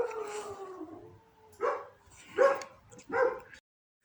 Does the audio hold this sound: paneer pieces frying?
no